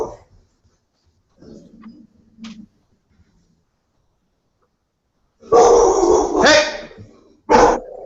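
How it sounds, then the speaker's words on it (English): A pet dog barks indoors during a tabletop role-playing game session, a few loud sharp barks in a quick cluster followed by one more, after quieter murmuring and faint sounds earlier on. "I'm gonna get the dog under control. Hey, Emmy, no barking"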